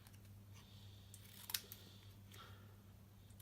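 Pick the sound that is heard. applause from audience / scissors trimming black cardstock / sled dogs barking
scissors trimming black cardstock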